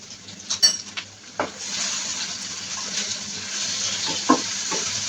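Garlic paste frying with chopped onions in oil in a pan, an even close sizzle broken by a few metallic utensil clinks and scrapes against the pan, no voices.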